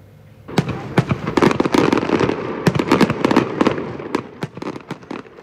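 Fireworks burst in a rapid, irregular volley of loud sharp bangs and crackles, many overlapping blasts carrying on for several seconds with a rumbling wash between the reports during New Year celebrations.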